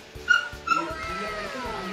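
Dogs at a construction site yip and whimper in short high bursts, a couple of sharp cries followed by softer whining, moderately close in a rainy setting.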